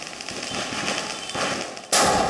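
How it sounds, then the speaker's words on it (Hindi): Diwali firecrackers burst in a dense, crackling volley of rapid pops. A sharper, louder blast comes near the end. "धूमधाम से पटाखे फोड़कर।"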